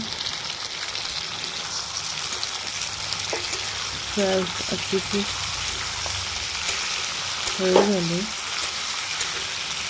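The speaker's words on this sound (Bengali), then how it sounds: "এবার একটু টমেটোগুলো দিয়ে দিচ্ছি।" Kashmiri tomatoes fry and sizzle steadily in a pan for a chutney, with stirring clatter and a voice speaking briefly over the cooking.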